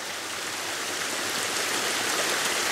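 Surface water flows across a property, a dense, steady rushing wash like a stream, loud and close with no breaks or voices.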